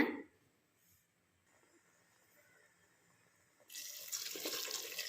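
Water poured from a tumbler into a pot of coconut milk while making green peas pulao, a loud close gush that starts after a quiet stretch and keeps running to the end.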